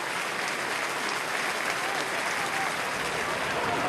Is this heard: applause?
yes